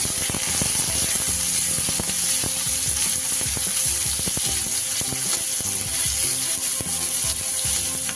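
Small cubed onions frying in a pan for chili paneer, a steady close sizzle with light stirring scrapes running continuously throughout.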